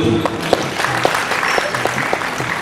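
An audience claps in a hall during a Gujarati literary and music program in Rajkot, giving steady close applause with a few sharper, louder claps standing out.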